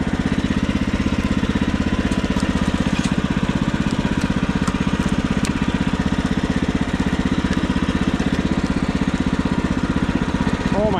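A sawmill engine runs steadily while sawing a log, a loud, even mechanical drone with a rapid pulsing rhythm that continues unbroken throughout.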